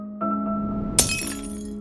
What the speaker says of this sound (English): her glass vase shattered on the floor